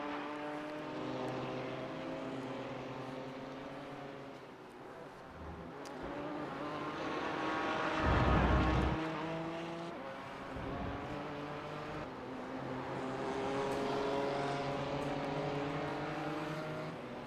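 Simulated race car engines roar around Sebring in an iRacing league race, with layered harmonic engine tones rising and falling as cars pass and a brief loud thump near the middle as a car hits the fence.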